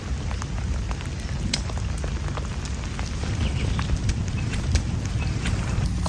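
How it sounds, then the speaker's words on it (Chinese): Heavy rainstorm pouring onto a wooden-cabin-style tent with a DAC pole frame, a dense, steady, close patter of drops with scattered sharper hits and no voices. "剛剛突然下了超級大的暴雨"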